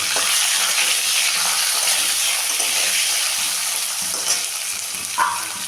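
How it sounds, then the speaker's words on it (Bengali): Flat beans and potatoes with salt frying in a pan after a black cumin tempering, a loud continuous hiss and sizzle with soft stirring knocks near the end, up close and without talk. "শিমটা, আলু, দেব নুন, একটু ভেজে নেব।"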